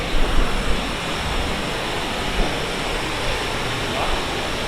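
Athabasca Falls in Jasper National Park, heard from the top of the falls, makes a loud, steady rushing roar of falling water that fills the clip, with a few brief knocks near the start.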